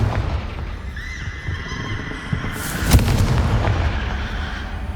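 Confringo fire spell explosion in the Hogwarts Legacy video game, a sharp loud blast near the three-second mark over a steady rumbling, clattering game background.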